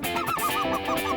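Several geese honk in a rapid, repeated run of calls during a goose hunt in California. The calls are loud and close, with no talking.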